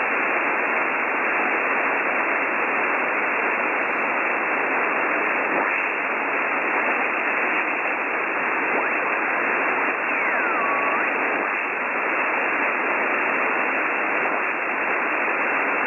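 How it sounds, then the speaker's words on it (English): Steady hiss of static fills an HF ham radio band, an even wash of noise with no signal or voices breaking through. "Nothing apart from noise."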